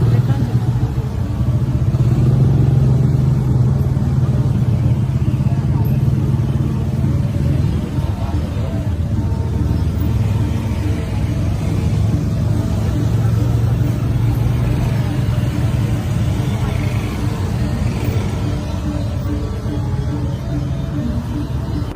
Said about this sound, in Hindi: बाली के उबुद में फुल ऑन ट्रैफिक जैम लगा हुआ है